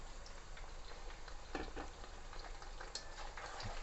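Meat frying with onions in a pan for Kyrgyz plov gives a steady, quiet sizzle with occasional soft ticks and stirring scrapes.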